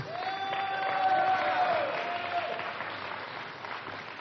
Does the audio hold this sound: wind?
no